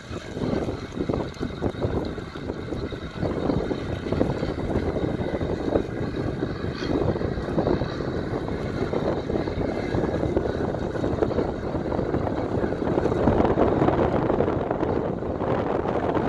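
A Sherp amphibious vehicle pushes through ice chunks in water, its engine a steady, loud broadband drone with rushing water and wind noise that swells slightly toward the end, with no talking.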